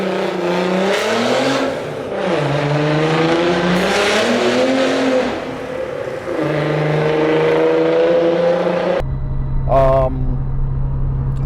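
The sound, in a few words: Nissan 300ZX twin turbo with aftermarket exhaust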